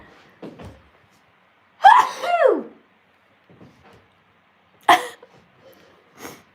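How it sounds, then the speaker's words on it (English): A person sneezes loudly a few seconds in, followed by a second sharp sneeze, with softer breaths and small noises in between; no talking. "I feel like I'm going to sneeze, guys"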